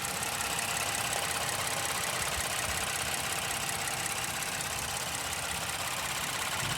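A 2020 Ford Transit-350 high-roof cargo van engine idles steadily with a constant hum and rattle, unchanging throughout, with no talking.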